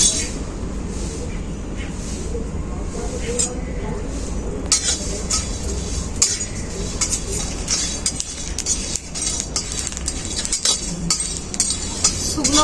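Bay leaves, dried red chillies, black peppercorns, whole cumin and coriander seeds are dry-roasted together in a wok. A spatula scrapes and clinks against the metal in a steady rhythm, close and fairly loud, over a constant low hiss.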